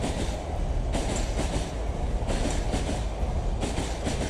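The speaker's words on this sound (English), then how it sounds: "we stupidly assume that this is the last commuter train going by" A commuter train rumbling past nearby at night with a steady roar and rhythmic clatter of wheels on rails, loud and continuous throughout.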